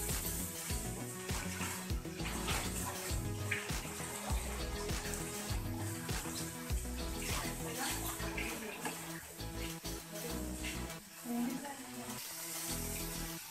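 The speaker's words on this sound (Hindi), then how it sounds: "शिमला मिर्च और बंद गोभी डालकर इन सबको फ्राई कर लें।" Capsicum, cabbage and carrot fry in a pan with a loud, dense, continuous sizzle and hiss, alongside a steady low rumble throughout.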